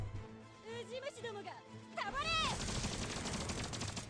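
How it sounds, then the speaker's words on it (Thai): Gunfire in the video game Destiny Girl strikes a barrier as a dense rapid burst of impacts, loud and close, following a stretch of music and talk. "โดนยิงมาปึ้งปึ้งเนี่ย"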